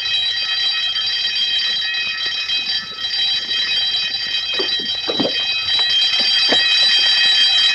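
An alarm rings loudly and continuously in a Spanish-language film scene where a safe is to be opened. The bright, steady metallic ringing runs throughout, with a few soft thumps midway and no voices.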